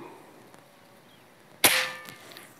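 A single sharp shot from a Predator Black Army Tactical OD 38 PCP air rifle cracks after a quiet pause, followed by a brief metallic ring that fades quickly.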